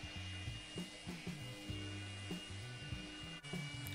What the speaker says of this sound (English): I've got some pine here to clean up and sand. Here is the first mode,